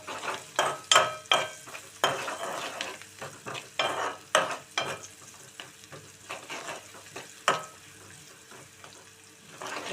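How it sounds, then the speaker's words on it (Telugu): Onions frying and sizzling in a pan while being stirred, a steady sizzle broken by repeated clattering scrapes of the utensil, loudest early then settling into softer stirring, no voices. "ఎర్రగా వేగాలండి ఉల్లిపాయలు"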